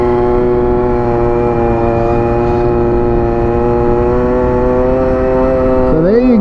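A scooter engine running rich on a fouled spark plug drones steadily at high revs with a harmonic whine, loud and close, then dips and wavers briefly at the end as the throttle responds sluggishly.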